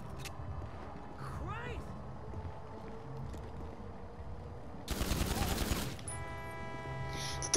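Video game gunfire, a dense burst of rapid automatic shots lasting about a second partway through, over low background game noise, followed by a ringing tonal sound.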